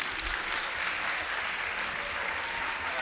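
An audience at a fashion weekend masterclass applauds, a dense, sustained wash of many hands clapping at moderate distance, steady throughout with no voices standing out.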